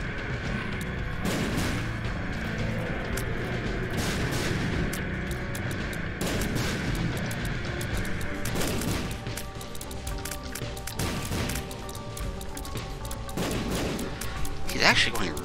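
Video game battle in Azazel onslaught with bombs and missiles exploding, a dense stream of booming blasts and gunfire-like bursts layered over continuous game music and effects, loud throughout the whole stretch.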